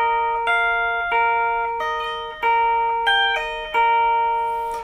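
An electric guitar plays a riff: clean, bright sustained notes picked in a steady repeating pattern with pull-offs, each note ringing out loud and alone without talk.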